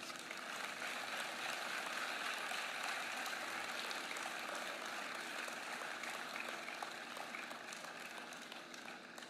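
Sustained applause from an audience at a teen's celebration of life memorial, a dense, steady wash of many hands clapping that holds evenly throughout and tapers slightly at the end.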